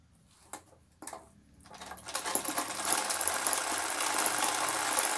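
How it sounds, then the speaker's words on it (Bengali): Sewing machine stitching fabric along a lower seam, starting with a few short taps and then building into a steady, loud, continuous whir of the running mechanism. "নিচের ডরিটা যেমন আছে সেই হিসেবেই আমি এটাকে সেলাই করে নিচ্ছি।"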